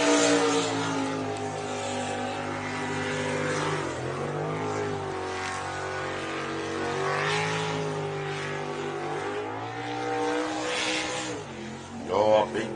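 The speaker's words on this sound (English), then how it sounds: "You heard that engine just really change tunes and put the foot in it, try to drag it out of the hole." A V8 superboat engine at a championship race roars continuously, its tone shifting as it bogs down and then revs back up, with loud wind and water noise throughout.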